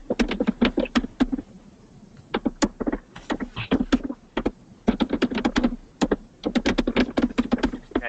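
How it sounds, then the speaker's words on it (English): Rapid bursts of computer keyboard typing, close and crisp, with short pauses between flurries of keystrokes. "I'm still hearing somebody typing."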